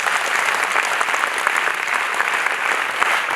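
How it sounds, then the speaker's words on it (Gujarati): Steady, dense clapping from a group of children at a drug awareness event in Gujarat, loud and sustained throughout with no voices breaking through. "જેને મજા આવી રહી હોય તાળીઓથી જણાવે"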